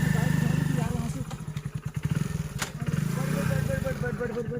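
A motorcycle engine thumps and revs loudly close by while being ridden along a rough dirt track through a forest at night, with someone talking over the throbbing exhaust.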